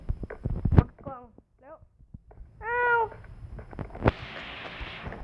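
A video game cat meows several times in a hide-and-seek minigame, with distinct rising and falling calls set among clicks and bursts of game noise, moderately loud and close.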